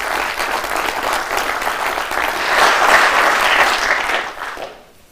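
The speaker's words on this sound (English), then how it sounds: "An applause." Audience applause after a technical R&D presentation, a loud dense wash of clapping that swells midway and then fades quickly to near silence in the final moment.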